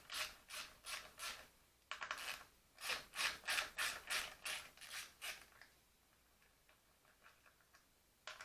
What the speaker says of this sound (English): we'll take the clamp off that's holding the brake hose to the fork guard.